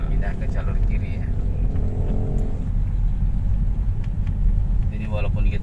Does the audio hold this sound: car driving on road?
yes